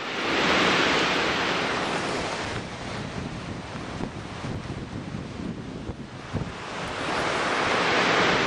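Heavy wind during Hurricane Ike roaring across the microphone in strong, surging gusts, buffeting loudly, easing slightly in the middle, then swelling again to a full roar.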